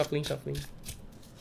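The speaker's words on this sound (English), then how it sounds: "So I usually just shuffle like that," Soft papery rustling of tarot cards being shuffled by hand, including riffle shuffling, close up, with a voice talking over the first half.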